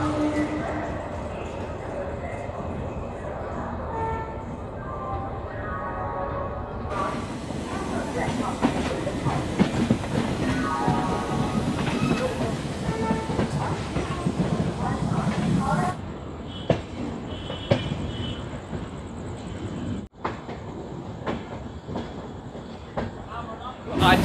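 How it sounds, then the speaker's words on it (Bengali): Howrah Mumbai Superfast Express pulling out of Howrah station, a steady loud rumble of wheels with rhythmic clacking over rail joints, its tone shifting as the train gathers pace, with passengers talking faintly in the background. "আর এই হাওড়া থেকে আমাদের ট্রেন ছেড়ে দিয়েছে 11:35-এ"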